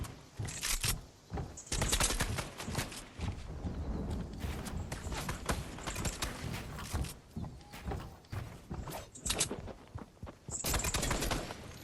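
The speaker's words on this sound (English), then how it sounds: "So this guy starts shooting my wall" Fortnite gunfire hammering a built wall, rapid bursts of shots and impacts in clusters separated by short gaps, loud and close with no talk.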